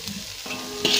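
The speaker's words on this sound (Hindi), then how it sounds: "धीमी आंच पर हिलाएंगे 2 से 3 मिनट के लिए।" Okra frying in a spoonful of ghee over a low flame, a brief soft sizzle with a stirring scrape that grows louder near the end, heard alone and close.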